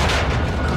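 A rocket-propelled grenade blast in a Modern Warfare 2 firefight at a wall, heard as a loud, dense boom with broad rumbling noise filling the short moment, no voices present.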